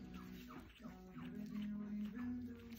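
Faint, soft whimpers and small yips come from three-week-old puppies, high thin cries repeating over a steady low hum, with quiet voices in the background.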